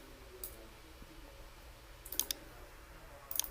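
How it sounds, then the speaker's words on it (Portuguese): A computer mouse clicks during software work: faint, sharp clicks, including a quick double click, against quiet room hiss, with no speech. "Vou fazer um duplo clique nele"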